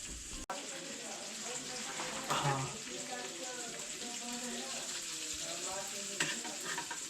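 Fish frying in a pan gives a continuous crackling sizzle at moderate level, with people talking over it at times.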